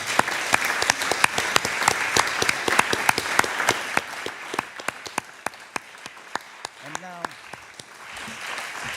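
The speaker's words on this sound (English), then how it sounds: "now that we have clapped our hands" A conference audience applauds at the closing session of a music congress, a dense wash of many hands clapping steadily for the full stretch, fairly close and loud, easing slightly toward the end.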